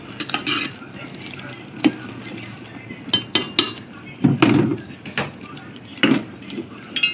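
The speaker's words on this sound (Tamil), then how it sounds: "போட்டு நல்லா கிண்டி மிக்ஸ் பண்ணலாம்" A spoon stirs and scrapes masala mixture in a metal cooking pot for white chicken biryani, making irregular clinks and knocks with louder scrapes between softer stirring.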